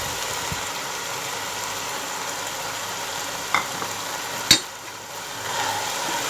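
Yogurt being stirred into frying minced keema with tomatoes in a pan, a steady close sizzle with a few sharp scrapes and knocks of the spoon against the pan, no voices.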